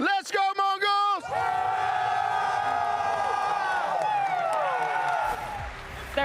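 A packed arena crowd at a Counter-Strike 2 major roars in rhythmic chanting for a Mongolian team, then swells into a long, loud sustained cheer with overlapping voices that fades a little near the end.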